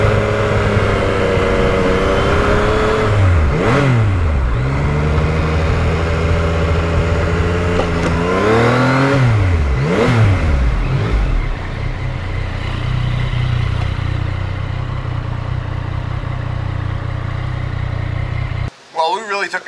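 A Yamaha MT-09 motorcycle revs while being ridden; the engine note climbs and falls in two loud sweeping surges, then settles into a steady cruising drone, close and strong.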